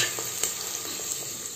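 Onion fries in ghee with a continuous bright, hissing sizzle, close and steady, with a few faint stirring ticks and no voices.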